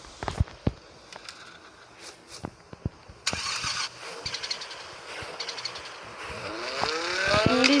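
A car engine cranks and catches, preceded by a few sharp clicks and knocks, then settles into a rising idle that grows louder and revs near the end.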